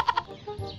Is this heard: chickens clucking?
yes